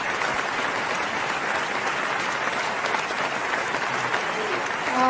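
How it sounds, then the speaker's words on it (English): Audience applause at the launch of the OncoBan O2 product, a steady dense clapping that fills the whole clip at full strength, with a faint voice near the end. "Please give them a huge round of applause"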